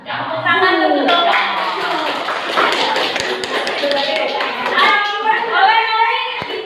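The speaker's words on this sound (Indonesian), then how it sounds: "Tepuk tangan dulu dong." Children in a classroom clap their hands together in a loud, busy burst of overlapping claps, with young voices chattering and calling out throughout.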